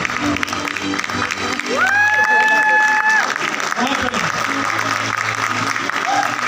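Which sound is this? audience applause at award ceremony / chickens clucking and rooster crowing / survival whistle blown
audience applause at award ceremony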